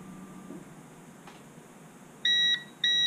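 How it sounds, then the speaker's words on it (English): Two loud electronic beeps from an Amazon Basics UPS 400VA 255W battery backup alarm after being unplugged, each lasting a fraction of a second, after quiet hum and a faint click. "Should start beeping again."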